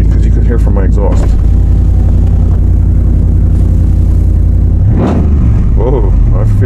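A Ram 1500 pickup's engine hums steadily through its exhaust with a deep, loud low drone, rising briefly in a short rev near the middle, while someone talks over it.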